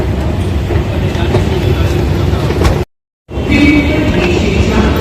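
Loud, continuous rumble of a train in a Mumbai metro station, with a brief drop to silence midway before the roar resumes.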